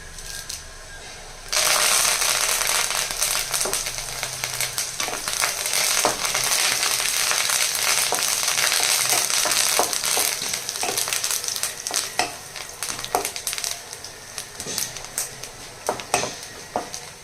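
Cumin seeds and curry leaves hit hot oil with broken dried red chillies, bursting into a loud, close sizzle with sharp popping crackles and spatters that keep going and slowly ease.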